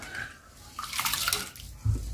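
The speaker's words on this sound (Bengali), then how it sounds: "চালটা ধুয়ে নিলাম" Rice is washed in water in a home kitchen, with soft splashing and dripping sloshes, a brief louder burst of water, and a dull thump at the end.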